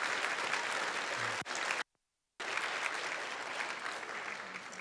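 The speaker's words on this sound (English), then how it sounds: "give a round of applause for Meredith and the team" A conference audience at a keynote breaks into sustained applause, a dense, even clatter of many hands that cuts out briefly near the middle and then resumes just as steadily.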